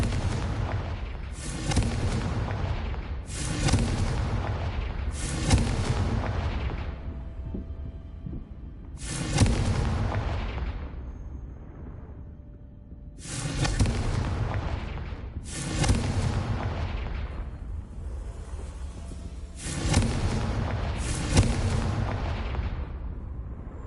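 Confringo fire spell blasts from the Hogwarts Legacy video game, a run of about eight loud booming bursts spaced a few seconds apart, each trailing into a rumbling decay, with no talking.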